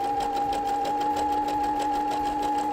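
A sewing machine fitted with a braiding foot runs steadily, stitching elastic along a seam with a continuous close, even whir and no pauses.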